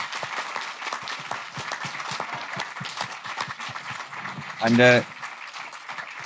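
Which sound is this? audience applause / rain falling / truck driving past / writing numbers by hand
audience applause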